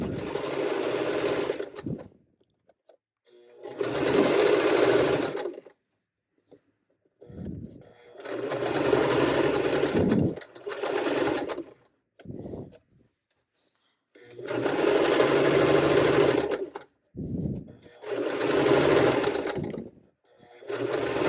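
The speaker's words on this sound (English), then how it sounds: "And I'm just going to start sewing. I'm going to back stitch." A sewing machine stitches the seam of pajama shorts, with several loud, close bursts of steady whirring separated by short pauses and brief stop-start runs, a few seconds each.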